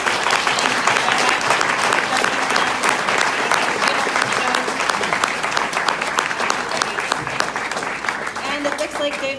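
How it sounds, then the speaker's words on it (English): Large festival audience applauding steadily at a live podcast recording on stage, dense clapping filling the room for several seconds, with a voice starting to speak near the end. "we are going to give a huge round of applause to these two"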